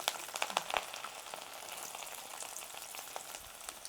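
Garlic cloves frying in hot oil with mustard seeds for a Kerala-style beef pickle, a dense, steady sizzle with crackling pops, close by, no talk.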